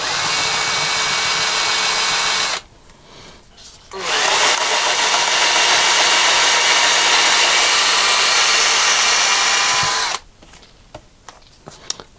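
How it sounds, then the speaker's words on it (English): An electric drill whirs loudly into a guitar body's finish, running in reverse, in two runs, a short burst and then a long steady spin of about six seconds, with quiet pauses between. "I'm starting with the drill going backwards just to break the finish at the top of the hole."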